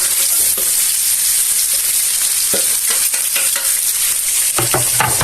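Garlic sizzling in a frying pan: a loud, steady hiss of hot oil with scattered scraping and stirring clicks, close up and with no talking.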